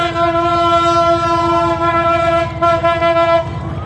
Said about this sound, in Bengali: ট্রেন আসতেছে, ট্রেন লাইনটা খালি করে দেন